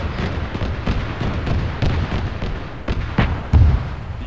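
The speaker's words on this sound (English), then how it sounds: "Something shooting down there. It's a tank." Heavy booming fire and explosions in an ArmA 3 battle thud repeatedly over a rumbling backdrop, with several distinct blasts spaced irregularly across the stretch and a deeper hit near the end.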